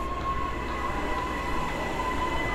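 Steady rumble of a subway train inside a New York City station in the Bronx, a continuous low roar with a faint high whine, loud and close with no talking.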